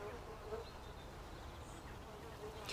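Bees hum steadily around beehives in a village setting, a soft continuous buzzing that stays faint and even throughout with no voices.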